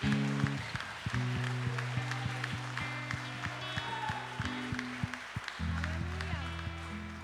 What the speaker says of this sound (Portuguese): pode aplaudir para ele